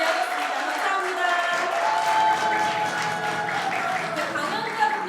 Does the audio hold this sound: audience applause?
yes